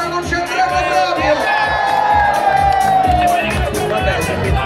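A crowd at an evening event on a Rome terrace shouts and cheers steadily and loudly, a dense mass of voices with whoops rising above the babble throughout.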